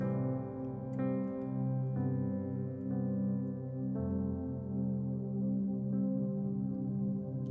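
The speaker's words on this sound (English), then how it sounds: "Yeah, it's a beautiful droning effect." Soft synthesizer pad drone sustained under keyboard chords in a modern worship style, new chords entering about once a second over the steady hum, quiet and alone.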